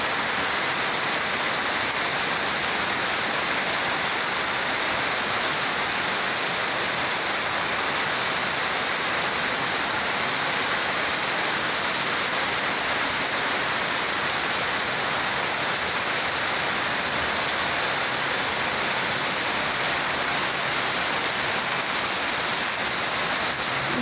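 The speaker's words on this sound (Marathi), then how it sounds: "खूप मोठा पाऊस पडत आहे आज।" A heavy downpour hisses and roars continuously, a thick, even wash of rain close by with no talking.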